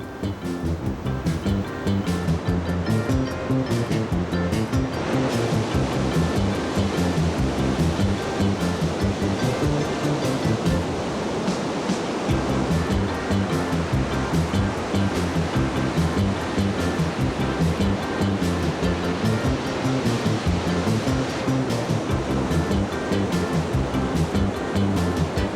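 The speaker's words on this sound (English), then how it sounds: "Atlantic rollers crashing down on the wide sweep of beach" Atlantic rollers crash continuously onto the wide sweep of Fistral Beach, a steady roaring surf with no pauses, loud and close throughout.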